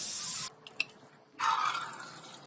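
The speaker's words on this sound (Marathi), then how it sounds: "डाळीच्या दुप्पट म्हणजे 6 वाट्या पाणी घालायचे" Water poured onto chana dal in a pot for puran poli, two bursts of splashing pour separated by a quieter gap with a single small clink.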